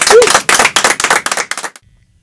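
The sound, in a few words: audience applause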